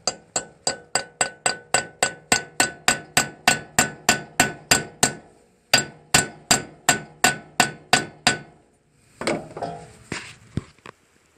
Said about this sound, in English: Maybe I'll bang the 13 millimeter in here.